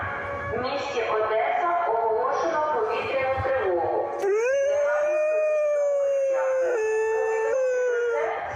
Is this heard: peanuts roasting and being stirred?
no